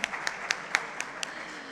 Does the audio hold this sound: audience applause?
yes